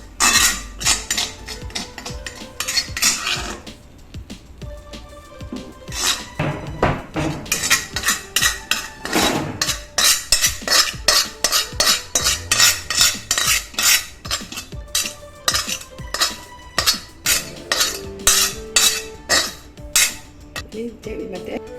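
A metal spoon stirs sliced onions in a pan for crab curry, giving repeated clinks and scrapes against the pan in a steady rhythm, loud and close, with brief pauses early on.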